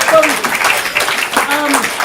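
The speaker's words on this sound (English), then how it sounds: "let's give you guys another round of applause." An audience at a ComedySportz improv comedy show in Portland claps in a steady, dense wash for about two seconds, with voices mixed in underneath.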